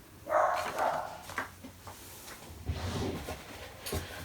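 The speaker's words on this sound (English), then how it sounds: "Yeah, sorry about the barking." A dog barks a few times in a room, a couple of sharp yaps followed by lower muffled woofs, with faint clattering in the background.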